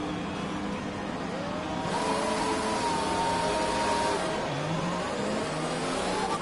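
A Formula 1 car engine in F1 2020 at a Singapore race weekend, revving on a practice start: a loud, high-pitched whine climbing and falling in pitch, close and sustained, with no talk.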